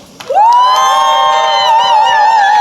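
Crowd cheering and whooping at an outdoor anti-poverty day rally, rising sharply after a brief pause into a loud, sustained shout with high-pitched voices carrying over it.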